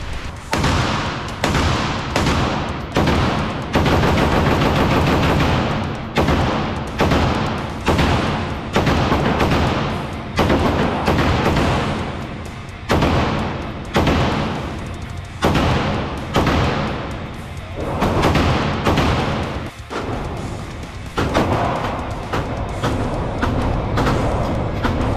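A Daniel Defense V7 Pro rifle in 5.56 with an 18-inch barrel firing at an outdoor gun range, loud, close shots repeated steadily in quick succession, each with a sharp crack and short echo.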